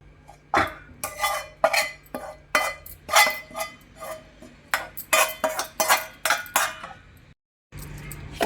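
A spoon mixes cooled tempering into chilli powder, with salt and fenugreek powder, in a bowl for cucumber pickle. It makes irregular, close metallic clinks and scrapes in quick bursts, with a short pause near the end and no voices.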